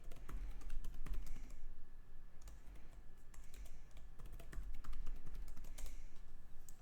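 A password is typed on a laptop keyboard in quick, irregular bursts of close, crisp key clicks with short pauses between runs, no voices present.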